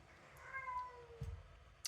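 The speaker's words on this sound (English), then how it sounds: "That was my cat again." Pet cat meowing once nearby, a single drawn-out descending meow, fairly quiet, with a soft thump afterward and no talk.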